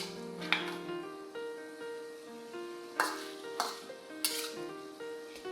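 Shredded vegetables and glass noodles sizzle in a pan, steady frying hiss punctuated by several sharp utensil scrapes and stirring clinks, with no talking.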